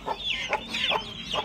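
A chicken in a coop clucks close by in about four rhythmic squawking calls spaced evenly over a second and a half.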